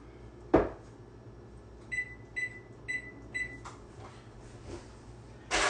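An oven control panel beeping as it is set to preheat to 450 degrees: four short, evenly spaced electronic beeps, clear and close, framed by a couple of dull knocks and clicks.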